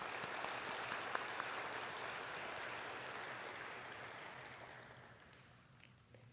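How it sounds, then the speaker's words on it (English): An audience at a community college student honors ceremony gives a sustained round of applause that is fairly faint and distant, slowly fading out toward the end. "please join me in a round of applause for her for this award"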